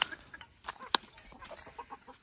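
Backyard hens and a crested rooster cluck in short scattered bursts, one sharp squawk standing out midway over a quiet background.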